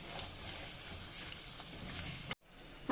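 Oil in a pan sizzles softly and steadily with red chili powder and cumin powder for a Maharashtrian Bhogi mixed-vegetable dish, broken by faint scrapes of stirring before a brief cut to silence.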